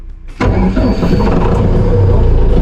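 A YTO tractor engine cranks and catches suddenly, then settles into a loud, rough idle close by, with no talk.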